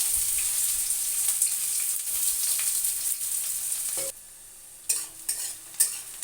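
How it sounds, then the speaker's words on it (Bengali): Chopped onion frying in hot oil for a spicy lote (Bombay duck) fish curry, a steady close sizzle with stirring scrapes, briefly quieter near the end before bursts of sizzling return. "তেল গরম হয়ে গেছে, ওই তেলে পেঁয়াজ কুচি দিয়ে দেবো"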